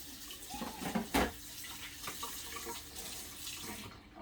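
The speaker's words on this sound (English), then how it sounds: "Rinse my hands off again." Hands rinsed under a running kitchen tap while cooking in a camper make a steady, soft splash of flowing water with a few brief swishes and splatters, close but faint, with no talking.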